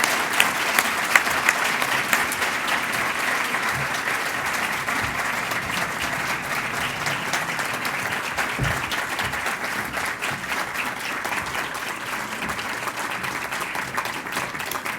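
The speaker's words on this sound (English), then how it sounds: "Let's give them a big round of applause as they come forward." Sustained audience applause fills a ceremony hall, many hands clapping steadily and evenly at close range for the whole stretch without a break.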